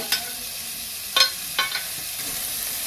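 Chopped onion, elephant yam and plantain fry in hot oil, giving a soft steady sizzle with a few brief sharp crackles and stirring clicks.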